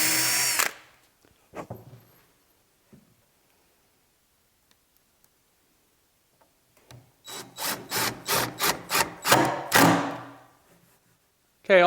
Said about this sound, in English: I've set up an extension 1/8 drill bit just so my chuck doesn't hit the inside here